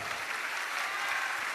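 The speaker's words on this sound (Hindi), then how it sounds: "जोरदार ताली बजाइए।" An audience at a religious question-and-answer gathering claps steadily, a dense continuous wash of applause from many hands with no pauses.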